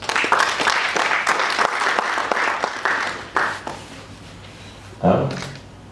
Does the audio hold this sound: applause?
yes